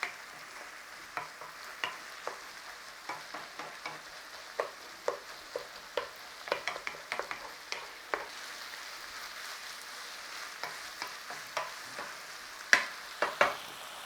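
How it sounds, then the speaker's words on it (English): Beef mince frying in a pot with a crumbled stock cube, a low continuous sizzle punctuated by frequent sharp scraping and tapping stirring strokes of a utensil, near and moderately loud. "Crumble in your stock cube. Give that a little bit of cooking in there with your mince."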